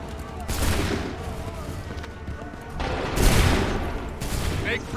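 Musket volleys ring out in Assassin's Creed 3, two loud bursts of massed gunfire about two seconds apart over a steady battle din, with scattered shots between and shouted voices in the background.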